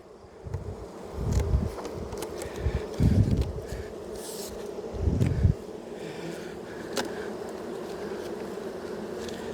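Honey bees hum around a hive being reassembled, with swells of low buzzing as insects pass near, alongside light rustling and handling clicks in an outdoor setting.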